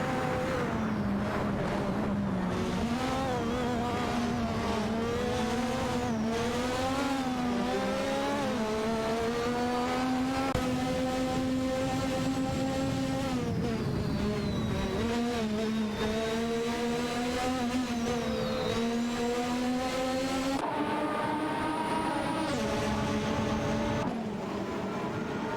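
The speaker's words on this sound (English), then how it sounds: "Babardo and Japaraguay 35 have made a swift move up to P2, successfully overtaking Neotexum and Zarusku in an impressive maneuver" Simulated Formula 1 race cars, including a Ferrari F1 87-88C, in a racing video game, with high whining engines shifting pitch steadily throughout as cars overtake, dense and continuous with no voices.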